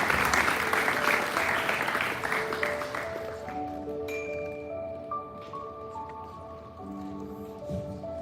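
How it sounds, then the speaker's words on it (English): A school-summit audience applauds as the Community Service Council walks on stage. The clapping is loud at first and fades after a few seconds as sustained tones and soft room sounds take over. "Can we please give them a round of applause as they join us up on stage?"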